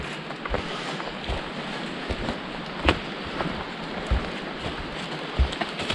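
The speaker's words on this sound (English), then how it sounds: "Oh yeah, here's some more rain." Rain falling on a ridge along the Cohos Trail, a steady broadband patter with wind buffeting the microphone, occasional louder drops and low gusty rumbles throughout, no voices.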